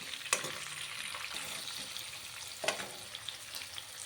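Curry leaves and chopped green chillies fry in hot oil with a steady, close sizzle, broken by a few sharp pops and light stirring clicks.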